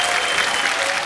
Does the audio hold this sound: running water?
no